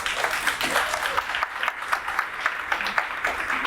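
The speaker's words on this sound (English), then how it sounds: "give that a round of applause." Brief applause from an audience at a New York business networking mixer, a scattered patter of claps at moderate level, with some murmuring voices mixed in beneath it.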